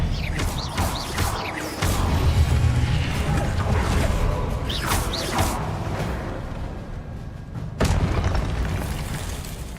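A Confringo fire spell bursts in the Hogwarts Legacy video game battle, with repeated loud booming blasts and crackling impacts over a dense rumbling combat din.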